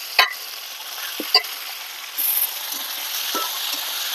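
Chicken meat fries in a pan with already fried potatoes, giving a soft, steady sizzle broken by a few sharp clicks and scrapes of stirring.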